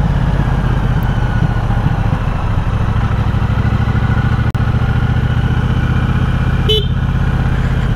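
A 2021 Triumph Bobber motorcycle engine runs steadily with a pulsing low throb and a faint continuous whine riding above it, close and loud, with a brief sharp tick midway and a short tonal blip near the end.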